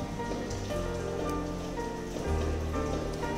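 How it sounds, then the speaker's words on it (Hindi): Masala spices fry and sizzle in a pan as a dense, steady crackle like rain, fairly soft and close, with no talking. "अब इसे अच्छी तरह से फ्राई होने दें।"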